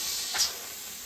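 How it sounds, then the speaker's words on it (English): Steam hisses steadily from a pressure canner full of green beans after its weight is lifted off, a continuous close airy rush with a brief louder puff near the start and no talk. "This is now when you can go ahead and take your weight off. It's going to steam a little bit."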